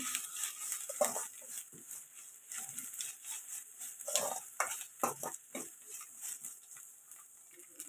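Ginger garlic paste frying with onions in a pan, for an egg masala curry, gives a soft steady sizzle at moderate level, broken by repeated scraping stir strokes of a spoon against the pan.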